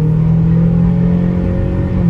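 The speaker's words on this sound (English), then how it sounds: "I'm just gonna go ahead and just gun it real quick" A 1999 Toyota Camry engine revs hard through a loud, poorly muffled exhaust, a deep continuous rumbling drone held steady and close for the whole stretch.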